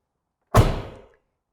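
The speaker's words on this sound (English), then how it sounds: "I'm going to close the door. You're just going to hear the sound of how robust this door is." A Mercedes-Benz S-Class car door swings shut with one solid, heavy thud up close, a short deep slam that dies away within about half a second, with no other sound around it.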